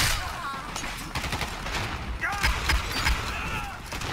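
Rapid automatic gunfire in the shooter game Dirty Bomb, bursts of sharp shots in quick succession with clinking mechanical sounds, a player's voice talking over the action.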